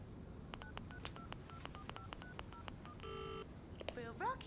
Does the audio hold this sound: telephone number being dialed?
yes